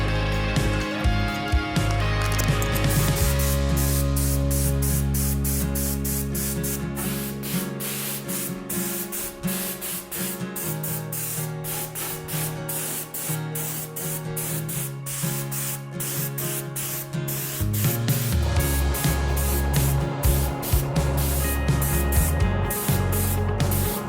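Spray gun hissing steadily as it lays a three-stage candy purple paint job (silver base, candy coat, clear) onto motorcycle parts, a continuous loud spray with music running underneath throughout.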